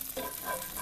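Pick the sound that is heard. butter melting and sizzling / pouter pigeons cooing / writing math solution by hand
butter melting and sizzling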